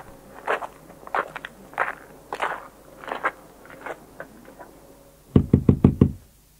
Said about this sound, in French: Soudain, on frappa à la porte.